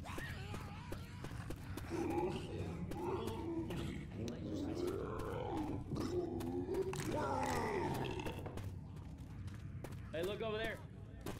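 A Charger infected roars in Left 4 Dead 2, a loud, drawn-out growling cry rising over dense game noise and shouting voices throughout.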